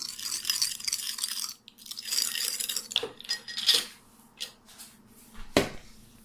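A spoon scrapes and clinks against a bowl while soy sauce, sugar and cooking oil are stirred together, with irregular close scraping and a few sharp taps.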